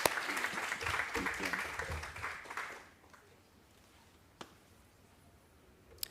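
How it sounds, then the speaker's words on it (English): Audience applause at a South African book launch, a brisk burst of clapping for about three seconds that quickly dies away, leaving quiet room tone with a few isolated claps afterward. "Let's give her a round of applause."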